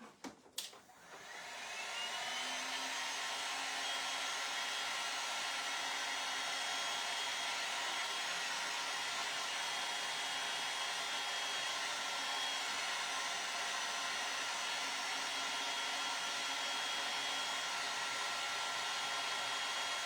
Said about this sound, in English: I think I'm gonna hit this with the heat gun really quick